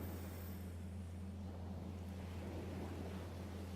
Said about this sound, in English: allow the sounds of the waves to take you away